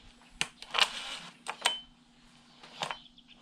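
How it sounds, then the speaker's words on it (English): A Johnson 9.9 outboard motor, long stored, has its starter cord drawn slowly, giving a few separate rasping, clicking pulls spread across several seconds, fairly close with nothing else around. "Go ahead and give it a slow pull just to make sure she's turning."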